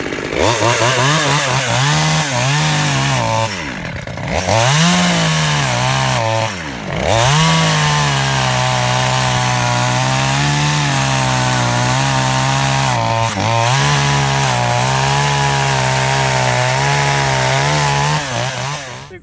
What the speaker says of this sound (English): make a few cuts on it and see how it cuts real fast